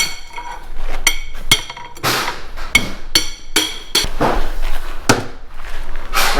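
Metal parts of a rear axle are tapped out with a hammer, giving a series of sharp, loud, ringing metallic strikes at irregular intervals, close by, with no talking.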